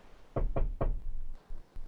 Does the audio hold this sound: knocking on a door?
yes